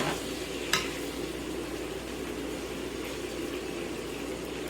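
A steady bubbling, sizzling hiss of squash sautéing in a pan, continuous and close, with a brief clink near the start.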